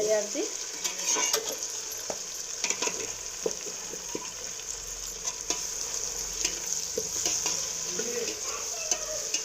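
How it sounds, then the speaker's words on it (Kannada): Onion and tomato frying in a pan for drumstick pulao, a soft steady sizzle broken by frequent spatula clinks and scrapes against the pan. "ಈರುಳ್ಳಿ ಫ್ರೈ ಆದ ನಂತರ ಟೊಮೊಟೊ ಹಾಕ್ಕೊಳ್ಳಿ ಚೆನ್ನಾಗಿ ಒಂದು ಸ್ವಲ್ಪ"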